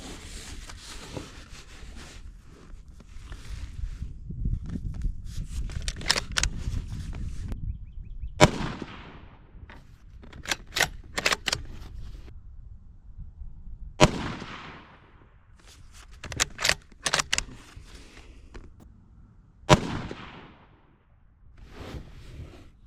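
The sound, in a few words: Ruger American Gen 2 rifle shot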